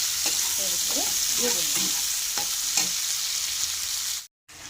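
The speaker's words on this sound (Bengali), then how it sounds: "পেঁয়াজটা ভাজা ভাজা হয়ে গেলে" Onions frying in oil in a wok make a close, steady sizzle while a utensil scrapes and stirs in several short strokes, ending in a brief cut to silence; nobody talks.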